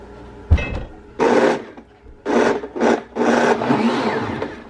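Several bursts of a blender whirring through a thinned mixture of cashews and water, loud and close, each burst starting and stopping abruptly with short pauses between.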